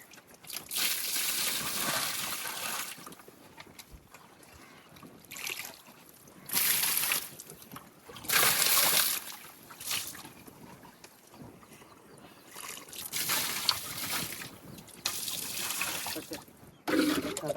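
Water is bailed by hand out of a small fishing boat on a Konkan creek, heard as repeated splashing scoops and sloshes in irregular bursts with quieter pauses between, close and moderately loud.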